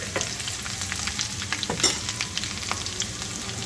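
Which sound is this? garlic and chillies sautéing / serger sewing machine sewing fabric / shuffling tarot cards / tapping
garlic and chillies sautéing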